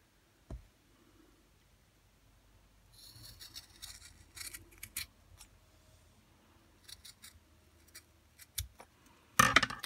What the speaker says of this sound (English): I'm going to cut off the ribbing where it was folded